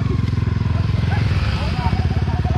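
A Yamaha WR155 dirt bike revs hard on an off-road trail as the clutch is released, its loud, close engine pulsing rapidly and rising in pitch while a person shouts over it.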